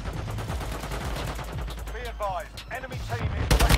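Rapid automatic gunfire in Warzone Mobile crackles steadily and close, with brief pauses where someone speaks over it, then a final loud burst of shots.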